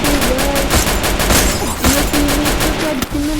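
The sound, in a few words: gunfire in a video game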